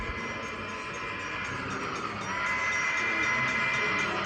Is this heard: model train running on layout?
yes